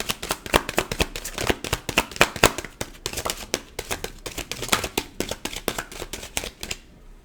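Tarot cards being shuffled in a rapid run of crisp riffling snaps and flutters, close and steady for several seconds before trailing off at the end.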